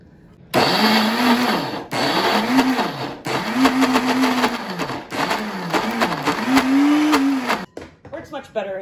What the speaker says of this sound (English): you can use a pulsing section on your blender